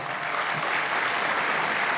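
Audience applause at a talk, a dense steady wash of clapping from a crowd, fairly loud and continuous throughout, with no voices over it.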